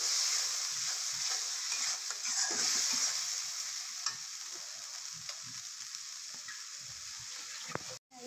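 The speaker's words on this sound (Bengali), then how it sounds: "এই মশলাগুলো ভালোভাবে কষিয়ে নেবো।" Spices with turmeric and salt stir-fry for tripe, giving a steady sizzle with scraping stirs and clatters of a utensil against the pan, close by and continuous.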